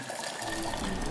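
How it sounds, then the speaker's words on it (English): Hot water pours into a container in a brief, soft, gushing splash. "I filled it with hot water"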